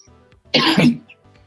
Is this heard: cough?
yes